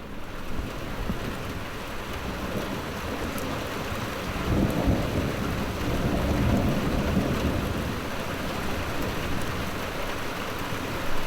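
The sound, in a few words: thunder and rain in a thunderstorm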